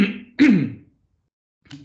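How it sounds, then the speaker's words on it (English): Lecturer in a lecture hall coughing and clearing his throat: one short rough burst, a louder cough, then silence and a faint final throat sound, close to the microphone. "Forgive me for this coughing."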